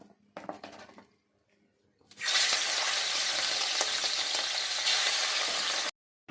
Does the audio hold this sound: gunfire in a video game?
no